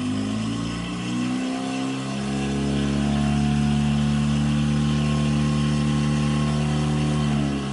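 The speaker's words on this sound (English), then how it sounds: "So start applying throttle. We're in reverse right now." Outboard engine of a 2020 Triton 216 Fishunter boat as throttle is applied in reverse, a steady, close drone with a low hum that grows louder and more strained partway through, no talking.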